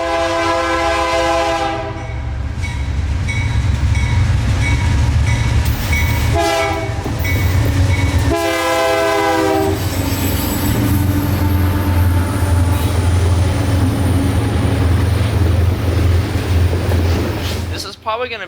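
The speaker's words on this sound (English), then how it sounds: "The train is passing through historic downtown now and will pass us here turning back south toward Tampa." Freight train rolling through a historic downtown, a loud continuous rumble of wagons and wheels close by, with horn blasts sounding several times over the steady roar.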